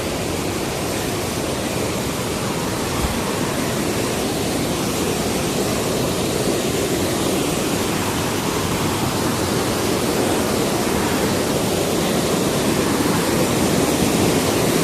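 A waterfall pours down in a steady, loud, unbroken roar that fills the whole stretch with dense rushing water noise and no voices.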